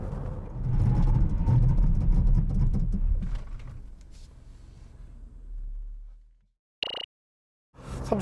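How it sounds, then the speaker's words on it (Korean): A 2020 Chevrolet Trailblazer 1.35T 2WD runs a braking test, with loud road and engine rumble that fades as the car slows and settles into quiet, followed by short separate noises. "이번에는 트레일블레이저 투휠 모델의 제동 성능을 한번 볼까요?"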